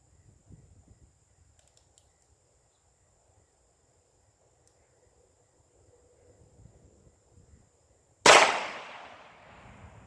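A single sharp gunshot from a Heritage Rough Rider .22 revolver fired outdoors, loud and close with a ringing decay, after a long quiet stretch of faint rustling and handling noise.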